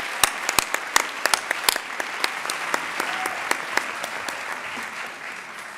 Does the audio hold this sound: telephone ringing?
no